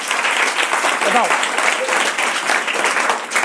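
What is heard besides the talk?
audience applause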